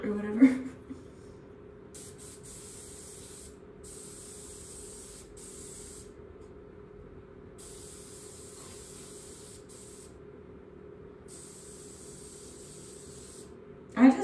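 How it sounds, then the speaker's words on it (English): Hairspray sprays onto hair in a series of separate hissing bursts, some short and some lasting a couple of seconds, close and moderately loud over a steady low background hum. "So I think I'm literally gonna hairspray."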